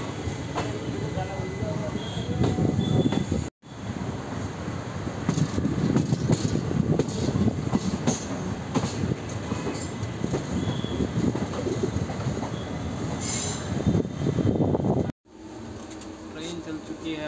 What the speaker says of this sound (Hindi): ट्रेन चल चुकी है हमारी एकदम टाइम पे